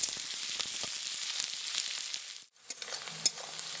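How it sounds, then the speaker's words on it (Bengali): Chopped onions and green chillies frying in hot oil for a duck meat curry, a steady close sizzle with occasional stirring scrapes and one brief dip near the end. "আমি খুব ভালো করে পেঁয়াজ আর কাঁচা লঙ্কা ভেজে নেব।"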